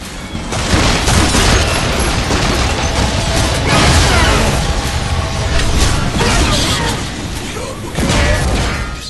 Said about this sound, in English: Launching a gravity grenade towards a cluster of enemies, followed by a standard grenade, produces some incredibly effective robot destruction.